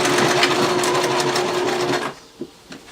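A sewing machine runs in one steady close burst while stitching around the armhole of a fur jacket, then stops near the end, leaving a couple of soft handling clicks.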